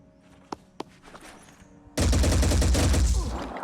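An inaccurate gun in the Phoenix Point strategy game fires at extreme range. A couple of faint ticks come first, then a loud, sustained burst of rapid automatic gunfire that drowns out everything else.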